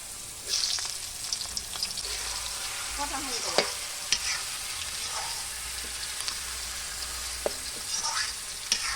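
Onions fry in a pan over an outdoor wood fire, a steady soft sizzle broken by occasional stirring scrapes and sharp crackles and clicks, with no one talking.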